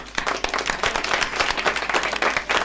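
An audience claps for the performers of a Bengali dance drama, a loud, close, dense round of applause with sharp individual claps throughout.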